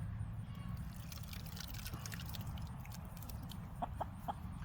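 Backyard chickens cluck softly in the distance over a steady low rumble of background noise, with a few short sharp notes near the end and no talking.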